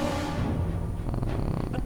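A cat purrs softly while sitting on a lap and being petted, a steady low rumble that runs the whole time alongside faint background sounds.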